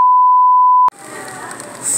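A single steady checkout scanner beep rings out loudly at a store register while items are rung up, lasting nearly a second and then cutting off abruptly into busy background room noise.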